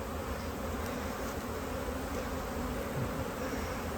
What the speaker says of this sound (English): Look at Tim and Brian over there with all those bees.